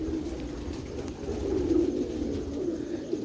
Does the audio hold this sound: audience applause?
no